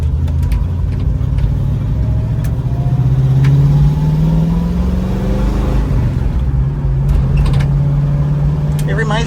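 A 1970 Ford Mustang Mach 1 with a four-speed and shaker hood pulls away down the road, its engine note rising steadily as it accelerates, with people talking over the engine throughout.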